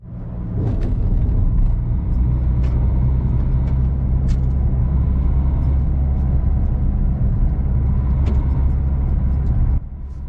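Car driving through the fen country around Metheringham, a steady loud engine and road rumble heard from inside, continuous throughout with a few faint clicks and no talk.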